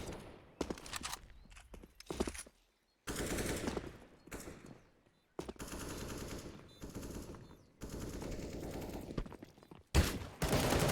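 Rapid bursts of automatic gunfire from a Counter-Strike match, with a Mag 7 shotgun in play, crackling in loud clustered volleys separated by brief silences and quieter footstep-like clatter.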